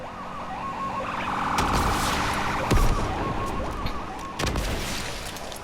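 An ambulance siren in a car-versus-rockets video game wails in a repeating up-and-down pattern, fairly close, with a couple of sharp thuds or impacts cutting through it.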